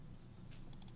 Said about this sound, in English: Just pound on the keyboard and hopefully get the right answer.